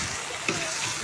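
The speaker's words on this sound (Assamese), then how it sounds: "এয়া বিলাহী দি ভাজিছোঁ।" Tomatoes and potatoes frying in a pan make a steady, dense sizzle throughout, close and fairly loud, with one brief soft clink near the middle and no talking.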